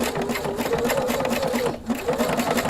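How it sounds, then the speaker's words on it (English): Husqvarna sewing machine fitted with an edge stitch foot, stitching in the ditch of a seam over stabilizer: a fast, steady mechanical whir with rapid needle chatter, close and continuous apart from one brief dip. "So now I put the guide in the ditch of my seam, stabilizer is underneath, and I'm going to stitch."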